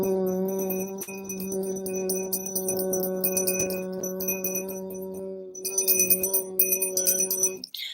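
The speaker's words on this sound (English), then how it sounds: "ring the bell." A bell rings out during an evening spiritual session, a sustained, ringing metallic tone that hums steadily before a brighter shimmering strike near the end, then fades.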